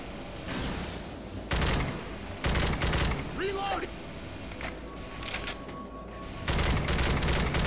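Sniper rifle shots in the zombie shooter Left 4 Dead 2, loud booming cracks fired one after another in a slow irregular rhythm, close up, with someone talking between shots.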